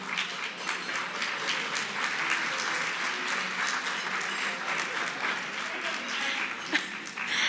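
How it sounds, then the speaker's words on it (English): Sustained applause from a luncheon audience greeting senior volunteers walking to the front, a steady dense patter of many hands filling the room without pause. "please applaud them as they make their way to the front"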